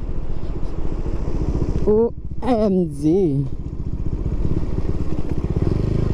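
A 390 motorcycle pulls hard on an evening ride, its engine a steady low drone throughout, while a rider briefly cries out in excitement over the engine noise.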